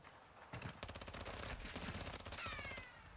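Rapid automatic gunfire from a Call of Duty Modern Warfare 2 one-versus-one match, a dense stream of close, loud shots lasting a few seconds with no voice over it.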